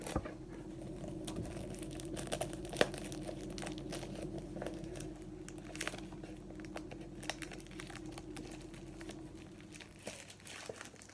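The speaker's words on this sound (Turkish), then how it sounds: "İlk öncelikle ben poşetini yırtarak başlıyorum." Crinkling plastic rustles steadily, close by, with small pops and rips scattered throughout as the plastic bag around an earbuds box is torn open.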